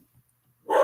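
One loud single bark from Tyler the dog bursts out after near silence, close and abrupt.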